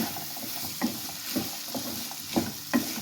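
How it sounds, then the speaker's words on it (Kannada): Chicken snack frying and being stirred in a pan, with a steady low sizzle and several short scraping stir strokes spaced about half a second to a second apart, close and moderately loud, no talk. "ಇದನ್ನು ಅಷ್ಟೇ ಚೆಂದಾಗಿ ಹುರಿಬೇಕು. ನೀರೇ ಇರಬಾರ್ದು, ಆ ಥರ ಬತ್ತಿಸ್ಬೇಕು ನೀಟಾಗಿ."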